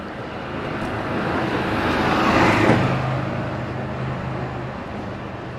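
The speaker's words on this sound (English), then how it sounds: "a lot of vehicles always going by for cleaning, maintenance, all those things" A vehicle passes by at Disney's Pop Century resort, its engine noise swelling to a peak about midway and then fading away, with a steady low hum that carries on afterward.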